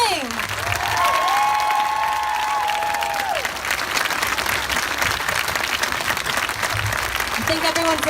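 Sustained, dense applause rolls on from a large crowd at a Portland solidarity rally for Charlottesville, loud and continuous, with voices rising above it at times.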